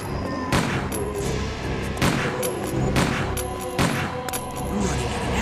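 Resident Evil 2 gunfire: several loud, close, sharp shots spaced about a second apart, each with a ringing tail, over tense game ambience and no talking.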